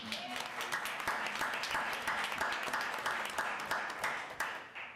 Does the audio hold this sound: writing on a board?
no